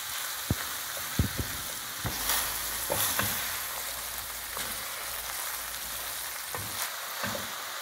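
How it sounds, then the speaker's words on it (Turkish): Minced meat and chopped onion fry in oil in a pan, a steady crackling sizzle broken by occasional sharp pops and stirring clinks, with no talking. "Şimdi bir miktar yağ ekliyoruz. Bir soğanımız vardı, onu da doğradık. Bu aşamada onu da dahil ettik."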